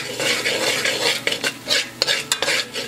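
Curry shrimp cooking slowly over low heat while a utensil stirs and scrapes the pan in quick uneven strokes, with sharp clinks and a soft sizzle underneath.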